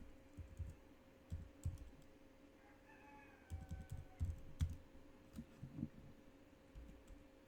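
Computer keyboard typing in short bursts of quiet clicks with pauses between, fairly close in a room with a steady low hum and no talking.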